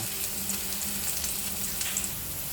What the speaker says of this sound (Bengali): পেঁয়াজটা হালকা একটু ভাজা হইলেই পটলগুলো দিয়ে দিব